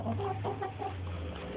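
Chickens in a backyard chicken shed cluck softly and steadily over a constant low hum, close and fairly quiet.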